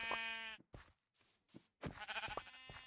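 Sheep in the Minecraft Bedrock video game bleat in short, wavering cries, several calls separated by brief gaps, fairly close and clear.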